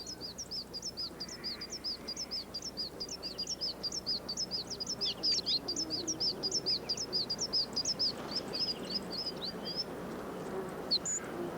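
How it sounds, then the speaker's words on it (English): A mistletoebird calls in the Australian bush, a rapid run of high, thin chirps repeated steadily over a low, rustling outdoor background, fairly near and clear. "it employs the mistletoe bird to spread its seeds and gain a root hold"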